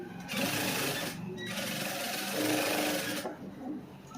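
A sewing machine stitching the front of a cross-cut blouse, running in a close, steady mechanical whir with two short pauses between runs.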